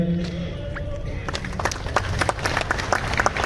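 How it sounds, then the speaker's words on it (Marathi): Applause breaks out at a municipal corporation's Republic Day felicitation ceremony, starting after a brief pause and swelling into dense, lively clapping from a crowd that fills the rest of the moment. "जोरदार टाळ्या झाल्या पाहिजे"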